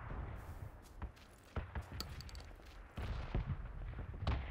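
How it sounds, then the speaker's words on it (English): Faint, distant gunfire in PUBG: scattered muffled shots and short bursts popping far off over a low ambient background, none of them close. "Someone around here is shooting. I can hear him."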